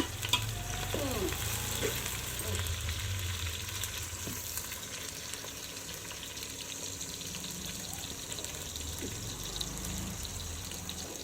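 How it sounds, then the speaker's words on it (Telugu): Onions fry in a pan with bay leaf, a low steady sizzle with occasional faint stirring scrapes, fairly quiet and without talking. "ఎర్రగడ్డలు వేసుకుందాం, బాగా కలిపెట్టాలా, కలిపెడదాం."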